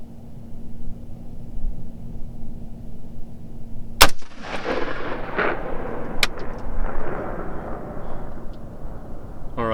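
A single sharp, loud gunshot from a Palmetto State Armory Gen 2 .308 AR-10 rifle with a 16-inch barrel at an outdoor range, followed by a long rolling echo, then a fainter second report over steady background hum.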